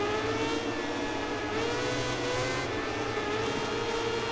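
A motorcycle engine from the racing game MotoGP 18 drones steadily and loud throughout, with a whirring, slightly wavering pitch as the rear wheel spins and struggles for grip.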